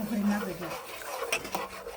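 Semolina sheera is stirred in a pan, with a few close scraping and rubbing strokes and a brief metallic clink, all under soft background sound.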